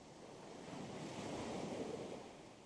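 Ocean surf rolling onto a beach, a steady broadband wash that swells to a peak midway and eases off, with some wind rumble on the microphone and no voices.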